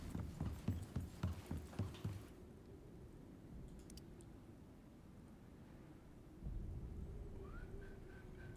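In the survival game Icarus, rhythmic clip-clopping steps come first, then a thunderstorm's low rumble rolls in, quiet and distant at first and swelling toward the end, with no talking.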